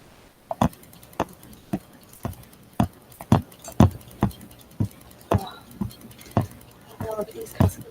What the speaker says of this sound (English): This machine's just the right speed for this project.